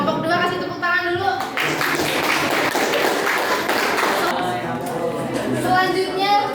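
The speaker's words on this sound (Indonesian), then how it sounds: "Dan kelompok 2 kasih tepuk tangan dulu." A classroom of students claps for a presentation group, a brief burst of applause between about 1.5 and 4.5 seconds, with talking before and after.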